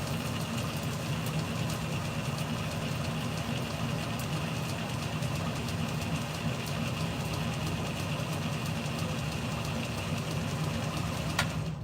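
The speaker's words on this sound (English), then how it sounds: "Nothing worse than just hitting start on your belt grinder and not having it in line" A belt grinder runs steadily while a blade is profiled, a constant loud motor hum with a broad whirring belt noise that holds even throughout, with no speech.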